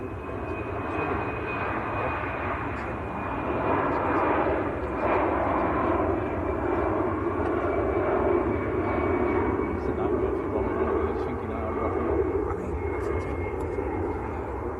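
A Lufthansa airliner in Star Alliance livery bound for Frankfurt rumbles at Manchester Airport, a moderate, steady engine roar with a thin high whine, holding evenly throughout with no voices heard.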